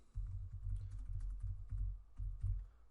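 Fingers type on a computer keyboard in quick bursts of soft clicks, close and faint, with brief pauses between groups of keystrokes and no voices.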